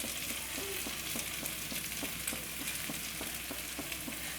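Chili powder and spices sauté in a pan for Kerala-style fish curry, giving a soft, continuous sizzle with faint rhythmic stirring scrapes under a broad hiss, no talking.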